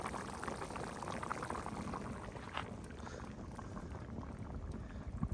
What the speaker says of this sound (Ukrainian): Гарно все кипить.